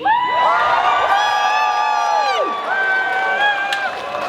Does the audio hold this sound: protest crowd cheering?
yes